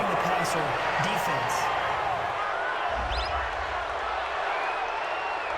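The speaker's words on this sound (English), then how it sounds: "Well, this crowd does not like that call." A football stadium crowd at an NFC Wild Card game between the Tampa Bay Buccaneers and Minnesota Vikings reacts to a penalty call with a broad, sustained roar and boos, steady and loud, with a broadcast voice briefly over it.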